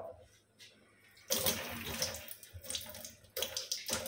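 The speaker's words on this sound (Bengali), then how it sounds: "তো যাই, আগে তাড়াতাড়ি করে মুখটা ধুয়ে নিই" Tap water gushes into a home sink while someone washes their face, running in close, loud bursts with a short lull before it starts again.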